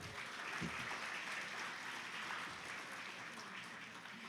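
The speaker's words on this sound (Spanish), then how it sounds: "un aplauso para las mujeres" Steady applause from a crowd, sustained at an even level throughout without pause.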